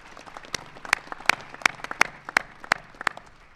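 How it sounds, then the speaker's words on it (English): Audience clapping at a White House ceremony honoring NASCAR champion Tony Stewart, with a few crisp claps landing in a steady rhythm over lighter, scattered clapping, fairly close and moderately loud. "You can give him a round of applause for that."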